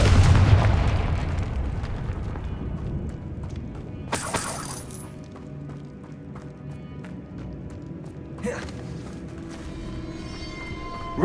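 A Confringo spell detonates in the Hogwarts Legacy video game, a sharp bright blast near the start, then another burst around four seconds and a third crack later, over low game ambience and footsteps.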